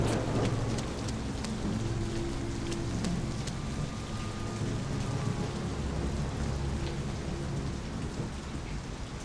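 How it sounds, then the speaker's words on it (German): Rain in the stealth video game Splinter Cell: a steady, dense downpour patters on surfaces throughout, with low rolling thunder rumbling underneath and occasional sharp drips, no voices. "Warum regnet denn das hier eigentlich?"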